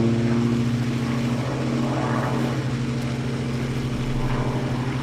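A propeller aerobatic airplane flies a competition figure with a vertical pull, roll, Humpty and snap, its engine droning steadily at a moderate distance with a slowly shifting pitch.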